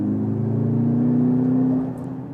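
A Mercedes GLC63 AMG SUV's engine and exhaust pull hard under acceleration, a smooth rising drone heard from inside the car that eases off near the end.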